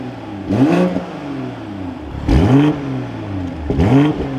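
A 2024 BMW M240i xDrive engine revs in three sharp, loud bursts close by, each rising and falling back to a rumbling idle in between.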